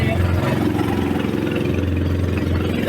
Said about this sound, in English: this is the engine